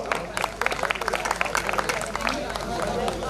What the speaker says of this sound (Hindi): एक बार ताली से आप आशीर्वाद दो।